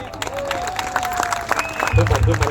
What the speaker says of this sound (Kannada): ದೊಡ್ಡ ಚಪ್ಪಾಳೆ ನಮ್ಮ ಸಹೋದರನಿಗೆ